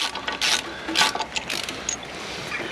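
Half inch drive ratchet with a 12mm socket clicking at close range as it is worked, several short bursts of rapid pawl clicks at an uneven pace, with no talking.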